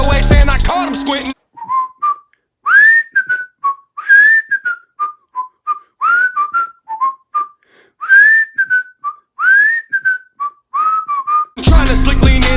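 A person whistling an 808-style beat pattern, clear and close, with short pitched phrases that bend upward and are separated by silent gaps, set between bursts of loud music at the start and end.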